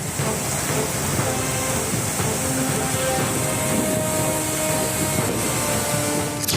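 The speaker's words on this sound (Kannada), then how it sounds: "ಡ್ಯಾಂನಿಂದ ಐವತ್ತೊಂದು ಸಾವಿರ ಕ್ಯೂಸೆಕ್ ನೀರನ್ನ ಹೊರಬಿಡಲಾಗಿದೆ" Heavy floodwater released from the Kadra dam in Karnataka during monsoon rains, a loud, continuous broadband roar of rushing water with no breaks.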